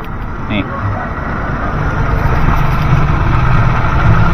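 A 1993 Toyota Kijang's engine idles smoothly with a quiet, even low hum and no revving, while someone speaks over it at close range.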